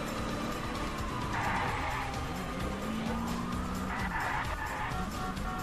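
A car in the video game Wheelman roars along with a continuous engine drone, its tires squealing in two long skids as it slides through an arcade-style chase.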